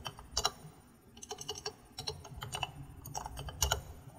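Keys clack on a computer keyboard in short bursts of quick taps with pauses between them, close and moderately loud while a step-by-step app-building tutorial is being entered, with no voices.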